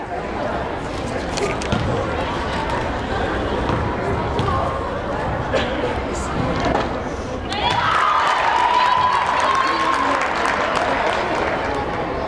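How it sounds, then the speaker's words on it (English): Spectators at a girls varsity high school basketball game in a gym give a steady wash of cheering and clapping throughout, swelling slightly near the end, with a few sharp thuds and squeaks and an announcer's voice over the crowd. "MSJ crowd hasn't had much to cheer about. They like that."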